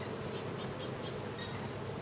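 A new beehive is opened, and many honey bees buzz around it in a steady, dense hum. Faint pulses of nearer wingbeats rise and fade over the continuous swarm, and no one speaks.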